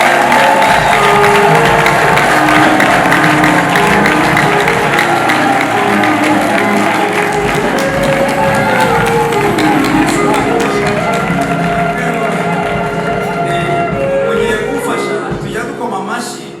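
Applause rolls through a crowd at a live gospel concert in Rwanda, dense clapping mixed with a sustained musical tone and voices, loud and close before easing off at the very end.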